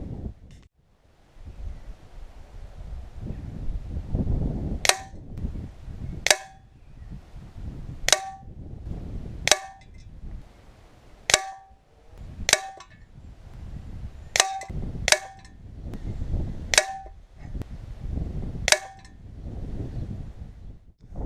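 Genesis Air Logic air rifle, blue print model, fired at a target: about a dozen sharp, evenly spaced shots with metallic clinks, roughly every one to two seconds. Outdoors, with steady wind rumble on the microphone.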